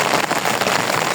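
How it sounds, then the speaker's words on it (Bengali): Heavy rain pouring down, a dense, loud, continuous hiss of drops close by with no other sounds. "যে বৃষ্টি অনেক জোরে বৃষ্টি নেমে পড়লো"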